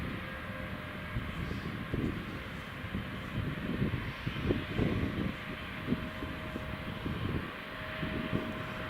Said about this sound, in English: I can hear the engines. The engines are starting on it